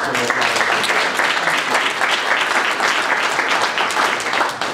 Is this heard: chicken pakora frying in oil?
no